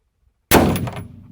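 A single sharp, loud shot from a Savage Axis rifle fired at a paper target at close range, a sudden blast after silence that rings and decays over the next second.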